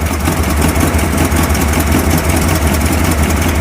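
A 1957 Ford Thunderbird engine idles steadily up close, running evenly now with a slight exhaust leak, a loud continuous low rumble with a rapid pulsing throb and no voices.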